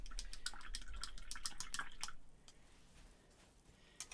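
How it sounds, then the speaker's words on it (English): A paint brush used with stamps and ink is rinsed in water: quiet sloshing and dripping for about two seconds, then the sound drops away to near silence with one faint drip at the end. "Let's clean the brush."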